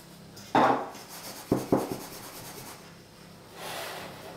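Five hundred grams of flour tipped into a large bowl while making pizza dough: a soft rushing pour and a couple of light clinks against the bowl, followed by a gentle, faint rustle.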